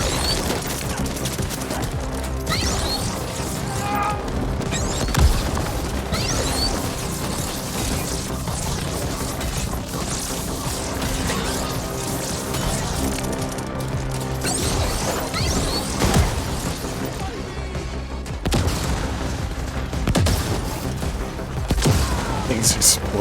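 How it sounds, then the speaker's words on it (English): Gunfire and explosions from the video game Ascent crash and boom in a steady, dense barrage over a busy mix of game sound, with a voice talking underneath throughout. "Things exploding."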